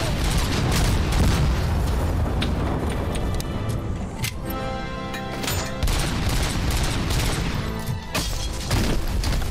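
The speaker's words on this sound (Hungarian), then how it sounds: "Az robbant mögöttem." In the video game RoboCop: Rogue City, an explosion goes off behind the player amid sustained gunfire, making a dense, loud barrage of booms and rapid shots that continues without pause throughout.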